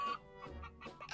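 Chickens clucking in the video game Minecraft, a few short, close, nasal clucks in quick succession, loud and alone with no talk.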